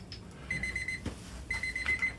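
A timer alarm goes off during a league match, sounding two bursts of rapid high electronic beeping about a second apart, with low room noise and a soft thud between them.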